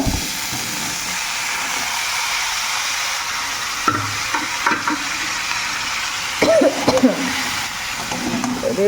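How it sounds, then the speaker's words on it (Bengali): Cumin and coriander powders stir-fried in a pan, giving a steady sizzling hiss with scraping stir strokes and brief louder clatters, fairly close, with a voice faintly present at times. "জিরা গুঁড়া ধনিয়া গুঁড়া দিয়া ভালো করে কষাই লইতাছি"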